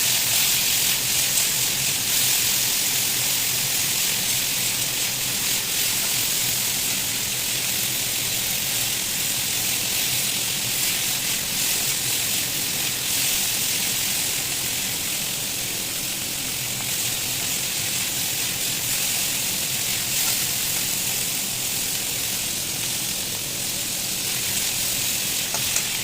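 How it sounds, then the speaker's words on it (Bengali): Shrimp frying in a pan, a steady close hiss and sizzle that runs without a break from start to finish, with no talking over it. "চিংড়িগুলো ভাজা হয়ে যাবে ভালো করে, ভালোর সঙ্গে।"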